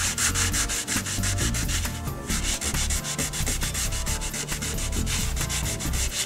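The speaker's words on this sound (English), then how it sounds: "We're going to sand only the area where the paint is missing or chipped off." Someone hand-sands the chipped paint edge of a car bumper with an 80-grit foam sanding pad. The close, loud, continuous scrubbing comes in rapid back-and-forth strokes, with no talk.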